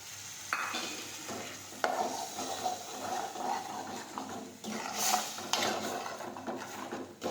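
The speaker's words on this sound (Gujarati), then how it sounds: "હવે આપણે પીસેલા ટમેટા નાખીશું." Ground tomatoes added to a pan of okra gravy and sautéed, with bursts of sizzling, scraping stirs and a few sharp knocks of a utensil against the pan, fairly close.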